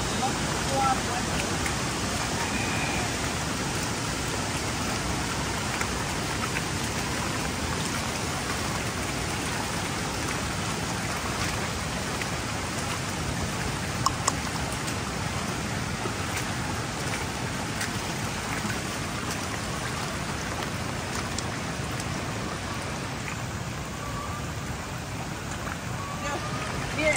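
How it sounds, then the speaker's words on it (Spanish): Heavy tropical rain pours steadily during a temporal storm lasting over 12 hours in El Salvador, a dense, even roar of drops on surfaces that holds unbroken for the whole stretch. "Hoy sí ha pasado más de 12 horas lloviendo, pero brutal lloviendo."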